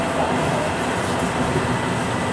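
A train car runs steadily on rails on the Sugita-bound line, a continuous, loud rolling rumble with a low, dense roar heard from inside the car, no voices.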